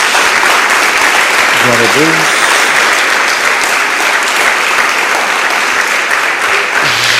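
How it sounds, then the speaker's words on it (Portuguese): A church congregation claps loudly and steadily, with a continuous wash of applause and a brief voice calling out partway through. "Você pode dar uma salva de palmas a isso, em nome de Jesus?"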